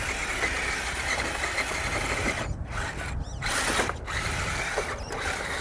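Redcat Gen 8 Axe Edition RC truck with a brushless motor driving through cold sand, a continuous whirring, ratcheting drivetrain buzz at close range with a few brief dropouts.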